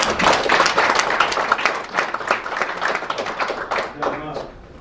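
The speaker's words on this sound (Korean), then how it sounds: "박수 한번 보내주십시오" Audience applause for an association president at a gathering of overseas Korean press, a burst of close, fairly loud clapping from a modest crowd that thins and fades toward the end.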